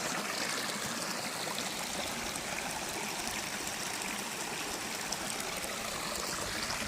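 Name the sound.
creek water flowing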